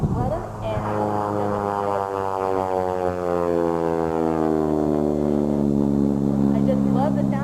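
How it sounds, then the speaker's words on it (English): A Gee Bee R-2 racing plane with a 450-horsepower Pratt & Whitney R985 radial engine makes a flyby at an airshow, a loud sustained drone that slowly falls in pitch as it passes. "I just love the sound of that engine."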